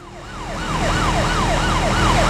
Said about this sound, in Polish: Radiowóz!